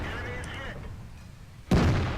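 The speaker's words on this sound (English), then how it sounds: "Collassus is able to unleash his gun again" A single heavy tank cannon shot in World of Tanks booms out abruptly near the end with a long rumbling tail, after a stretch of quieter battle ambience and game sounds.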